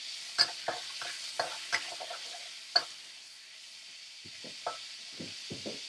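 Garlic sautéing in a pan for pakbet, soft sizzling with a run of clicking spoon taps and scrapes against the pan, close and quiet, with no speech.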